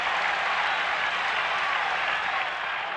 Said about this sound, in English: Standing ovation for Louis.